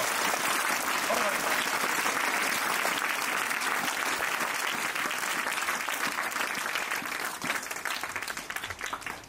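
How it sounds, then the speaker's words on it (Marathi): A large audience at a state-level oratory competition claps loudly and continuously for a girl's parents, a dense, sustained roar of hands that tapers slightly toward the end. "जोरदार टाळ्या तिच्या आई वडिलांसाठी"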